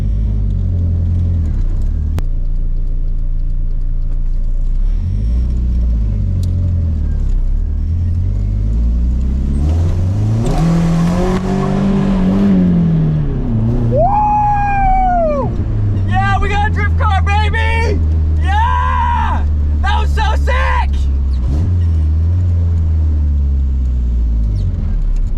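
Nissan 240SX drift car with a broken, detached exhaust, engine droning loud and close throughout, revs rising and falling in sweeping bursts with sharp high whines midway, while someone talks over it.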